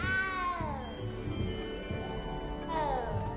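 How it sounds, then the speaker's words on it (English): A small cat in the video game Hogwarts Legacy gives two drawn-out, falling meows, one at the start and another near the end, close and clear over quiet game ambience. "You don't need to be frightened, little cat."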